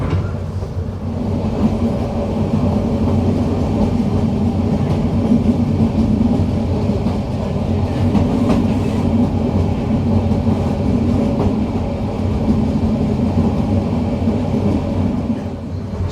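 Riding aboard the Cox's Bazar Express between Chittagong and Dhaka, a loud, continuous rumble of carriages on the rails fills the cabin, with faint rhythmic clatter and no pauses.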